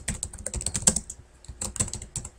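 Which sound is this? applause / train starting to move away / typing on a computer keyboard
typing on a computer keyboard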